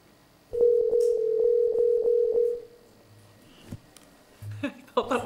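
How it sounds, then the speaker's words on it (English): A telephone tone sounds during a formal committee meeting, a loud steady electronic tone broken by short pulses for about two seconds, then stopping, followed by faint room noise and small clicks. "I thought that was somebody's phone."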